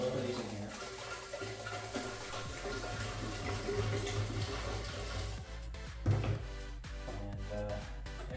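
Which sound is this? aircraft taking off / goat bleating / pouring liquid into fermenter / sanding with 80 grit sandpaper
pouring liquid into fermenter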